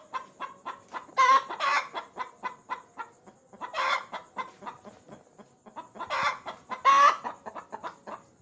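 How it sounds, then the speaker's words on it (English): Hens clucking in a flock, with repeated rhythmic clucks and several louder, longer squawking bursts typical of post-laying calls, close and continuous with no talk. "Hen will make noise,"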